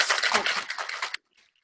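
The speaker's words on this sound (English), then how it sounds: "So we're just going to start shaking it up for 20, 30 seconds." Ice rattles hard in a cocktail shaker holding a whiskey sour with egg white, a dense rhythmic rattle for about a second before stopping abruptly.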